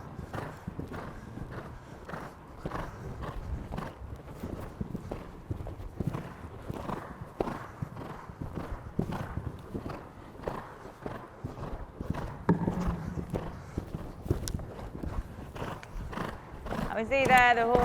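A horse's hooves thud on turf in a steady, rapid rhythm while it is ridden over jumps at an eventing masterclass, faint and continuous for a long stretch, with a brief higher call near the end.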